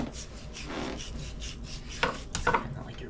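A knife slicing the thick fat cap from a dry-brined beef brisket, close and quiet, with repeated rasping, rubbing strokes and a couple of sharper scrapes near the end; no talking.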